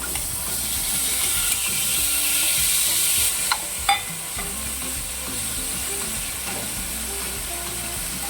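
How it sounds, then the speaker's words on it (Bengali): Marinated chicken frying in a pan gives a steady, close sizzle with a bright hiss throughout, broken by a couple of sharp clinks of a utensil near the middle. "এটা আমি এবার ভালো করে ফ্রাই করে নেবো"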